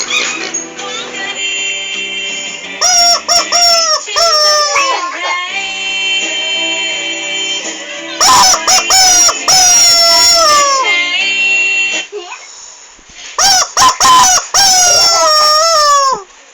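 Chickens clucking and a rooster crowing in loud, close bursts separated by quieter stretches, with a few repeated crow-like calls toward the end.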